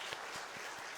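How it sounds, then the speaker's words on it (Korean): A church congregation applauding in thanks after a worship song at a Sunday afternoon service, steady dense clapping throughout with no talk. "우리 다시 한번 감사의 박수로 드리겠습니다"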